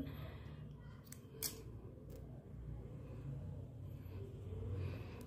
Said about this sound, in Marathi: हा दोरा कापून घेते मी गाठ मारून